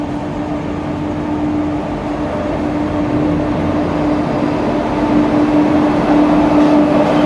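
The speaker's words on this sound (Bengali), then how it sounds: "এখন ট্রেন ঢুকছে রামপাট স্টেশনে যোগবাণী এক্সপ্রেস" The Kolkata–Jogbani Express rolls into a station with a loud, steady rumble and a sustained mechanical hum, growing slightly louder toward the end; no talking.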